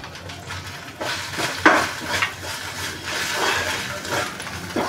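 Turmeric, masala, garam masala and fenugreek seeds stirred in a pan for a crispy mini samosa filling, with a spoon scraping and clinking against the metal in a steady run of scrapes and a few sharper knocks, close and moderately loud.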